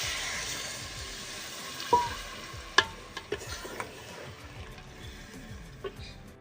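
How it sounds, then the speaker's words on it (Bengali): Chicken masala curry in a pan sizzles and is stirred while water is poured in, with a few sharp utensil knocks over a bubbling hiss. "এই চিকেন মশলাটা এটা দিয়ে দেবো এর মধ্যে দিয়ে জল দিয়ে দেব"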